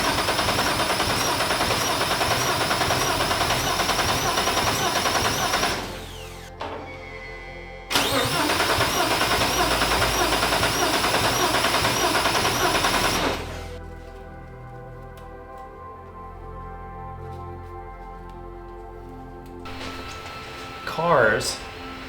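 A Ford Mustang with a swapped-in BMW engine cranks and fires up for the first time in a garage, running loud and steady with a brief stumble, then cutting out to a quiet idle-like hum with faint voices.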